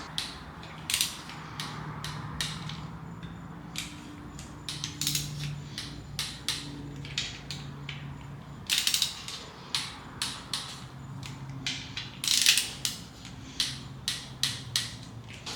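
A ratchet tightens the camshaft bolts on an LS engine build, with rapid clicking bursts repeating in short strokes across the whole stretch, close and fairly quiet, with no talking.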